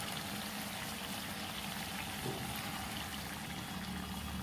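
Water runs steadily into a pot of Bengali-style mutton kosha, giving a continuous, even pouring and trickling wash that holds at one level from start to finish, with no talking.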